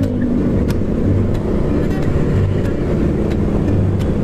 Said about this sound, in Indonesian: kalau gini kan padat ya sama kendaraan suaranya berisik juga